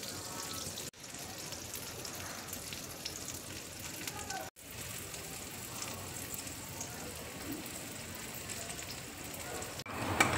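Bread slices frying in melted ghee on a hot tawa, a steady, moderately quiet sizzle that continues throughout with brief breaks.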